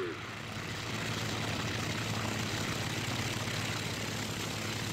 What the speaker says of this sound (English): Smooth takeoff.